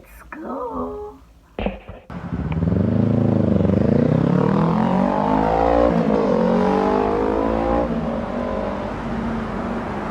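Mini bikes on the road, with a voice speaking briefly before engines rise into a loud, sustained revving drone that climbs and shifts pitch as they ride past.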